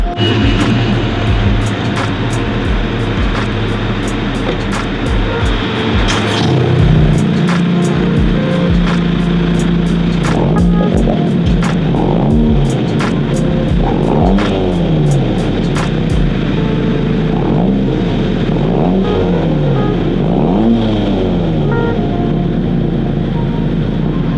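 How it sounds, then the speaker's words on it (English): A 10th-generation Honda Civic with a Greddy DDR exhaust idles loudly nearby, then revs up and down several times, the exhaust note rising and falling with a deep rumble. "the last thing on this car is the Greddy DDR exhaust. So I'll start it up"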